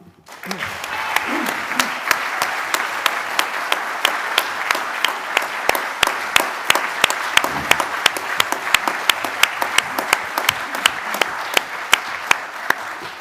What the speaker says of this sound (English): It's always good to get a round of applause at the start